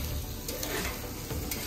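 Rice stir-fried in a lot of oil on a busy set kitchen, a dense hissing sizzle with scraping stir strokes, loud and close throughout.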